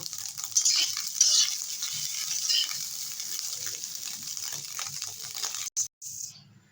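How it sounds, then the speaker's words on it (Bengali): Fish roe frying in oil for a telakucha greens recipe gives a steady, bright sizzle throughout, with soft stirring scrapes and a few brief dropouts near the end. "ডিম ভাজা হয়ে গেছে তুলে নেব"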